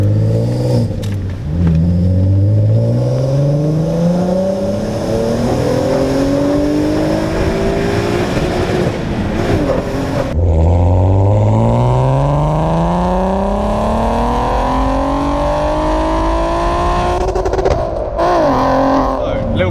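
A heavily modified VW Golf R32 with a roll cage revs and accelerates hard through rising gears, loud and close, with a brief drop and another climbing run; a voice talks over it.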